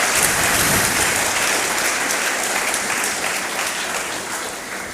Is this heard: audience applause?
yes